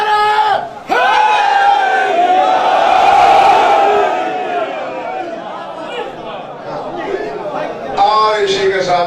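A large congregation at a Ramadan majlis roars back a religious slogan in unison, a loud sustained collective chant that swells, holds and then tapers off.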